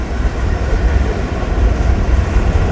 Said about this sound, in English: Old empty grain train slamming the diamonds